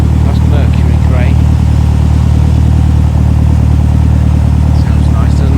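Classic Ford car in Mercury grey with original TC Harrison number plates runs steadily at a Ford car show, a continuous low engine drone under outdoor crowd chatter and nearby voices.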